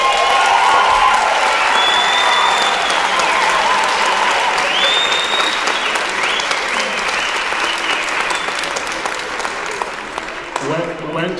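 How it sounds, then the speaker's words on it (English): Concert hall audience at a singing prize event bursts into sustained, dense applause with scattered cheers and whoops, continuing steadily for about ten seconds before thinning out at the end. "can we give them a big round of applause?"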